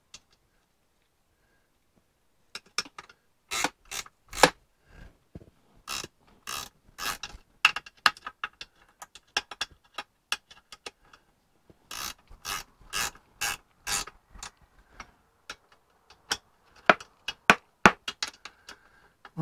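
Ratchet wrench winding nuts down while fitting the overdrive to a 1955 Triumph TR2 gearbox: bursts of rapid clicking pawl strokes, close and crisp, with short pauses between runs and no talk.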